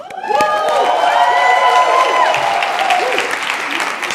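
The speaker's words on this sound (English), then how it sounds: "you should give a proper round of applause." A crowd at a company's national event in the UK claps and cheers, sustained loud applause with whoops and shouts layered over it, continuing steadily throughout.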